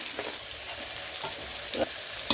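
Grated ginger and a large salted tomato fry in a pan for bansi rava upma, giving a steady close sizzle with a few brief stirring scrapes.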